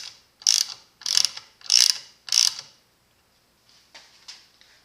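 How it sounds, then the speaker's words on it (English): A Craftsman Mach ratchet clicks as it drives a bolt, four crisp quick bursts of ratcheting in a steady rhythm, then a few fainter clicks, loud and close with no talking. "I can use the ratcheting action to drive the bolt"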